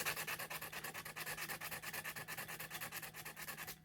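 Pieces of a craft project sanded down by hand, giving a quick, steady run of rhythmic scraping strokes, close and fairly faint, roughly eight per second, with no talking.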